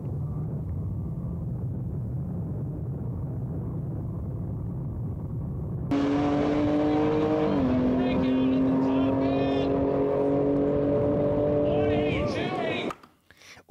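A McLaren 720S races a Tesla Plaid in a drag race. After a muffled, rumbling stretch, a loud engine wails as it accelerates with a brief dip at a gear change, then cuts off abruptly near the end.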